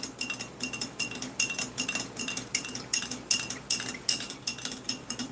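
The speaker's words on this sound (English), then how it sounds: "I need to give the lemon lime drink another stir." A spoon stirs lemon-lime drink powder in a cup from a 2012 US MRE ration, giving repeated quick metallic clinks and scrapes in a brisk, even rhythm, close and clear with no talking.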